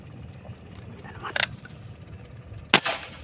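An air gun fired while fishing gives two sharp, sudden cracks about a second and a half apart over a low outdoor background hum, with no voices.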